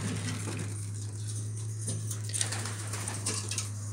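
Pigeons cooing softly in a breeding pigeon loft, low murmuring calls with a little patter and flutter over a steady low hum, no talking.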